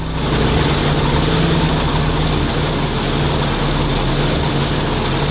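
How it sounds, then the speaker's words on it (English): A land speed race car with two engines totalling 2,500 horsepower runs with a constant, dense roar and a low steady hum, loud and unchanging throughout. "Being involved in starting the car and starting the second engine."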